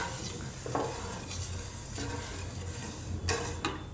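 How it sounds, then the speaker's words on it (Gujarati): A spoon stirs sugar syrup in a pot for bread gulab jamun, giving scraping strokes and a few light clinks of utensil against metal, close and clear with no talk. "આમાં વચ્ચે વચ્ચે આપણે હલાવતા રહીશું"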